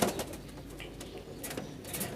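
A pigeon coos softly up close, low throaty murmurs repeating over a faint background hiss, with no voices.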